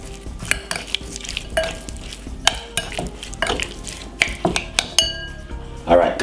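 A spoon stirs stew chicken in a pot, with irregular clinks and scrapes of metal against the pot and a faint simmer between the strokes.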